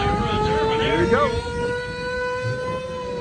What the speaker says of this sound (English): What's that? An air race siren.